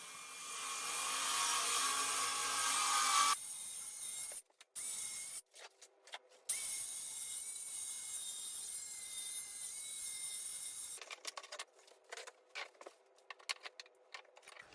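A power saw plunges into a chipboard kitchen subfloor, making a steady, harsh buzzing roar that cuts off, restarts in short bursts and then runs on before sputtering out.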